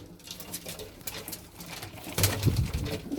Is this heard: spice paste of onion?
no